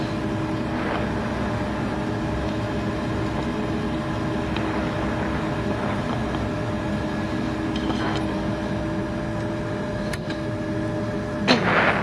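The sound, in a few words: F-16 Viper jet engine running after start-up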